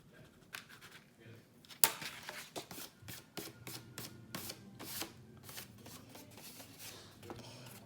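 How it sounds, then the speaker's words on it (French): An eraser rubs pencil marks off paper while making a gusseted envelope, a close series of quick, dry scrubbing strokes in an uneven rhythm, with one sharper scrape near the start and no talking. "juste passer un coup de gomme pour enlever"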